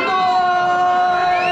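Loud, steady crowd noise from a comedy-show audience, cheers and whoops blending into a continuous wall of sound with a sustained tonal whistle running through it.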